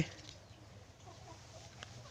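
Native Thai village chickens, backyard and fighting-cock types, cluck faintly in the background of an outdoor yard with steady low ambient noise, with a brief brighter call near the end.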